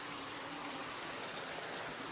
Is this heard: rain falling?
yes